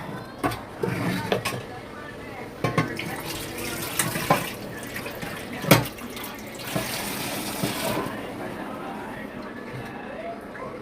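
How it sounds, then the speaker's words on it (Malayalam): Water is poured into a cooking pot for a Wayanad-style tapioca biriyani, with splashy bursts of pouring and clattering against the pot over a steady background. "നമുക്കിതിന് ആവശ്യം വേവാനുള്ള വെള്ളം വയ്ക്കാം"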